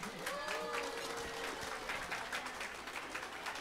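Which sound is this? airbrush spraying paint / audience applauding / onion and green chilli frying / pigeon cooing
audience applauding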